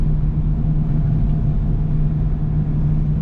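A lowered Volkswagen MK2 Jetta on the move, its engine giving a steady low rumbling drone with a faint hum, heard from inside the car and running the whole time without voices.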